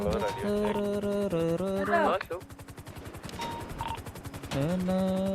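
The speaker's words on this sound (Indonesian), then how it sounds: "ditembak kita." Gunfire in GTA V roleplay, rapid bursts of shots crackling loudly over in-game engine drone and music-like tones, with players talking intermittently.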